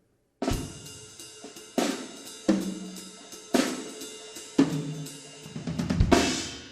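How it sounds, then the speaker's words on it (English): Drum kit at an elementary school concert playing a jazz rhythm: a series of sharp hits roughly once a second with cymbal wash between them, up close and alone, rising at the end. "For example, he could play a jazz rhythm."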